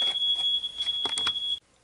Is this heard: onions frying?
no